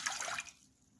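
Half a cup of water splashes out in a short, soft pour while a purslane pickle sauce is mixed, then trails off to near silence.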